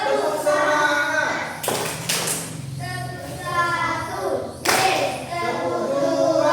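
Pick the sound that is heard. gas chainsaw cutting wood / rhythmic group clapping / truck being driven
rhythmic group clapping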